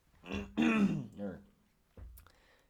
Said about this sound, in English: Clear my throat, I guess I should say.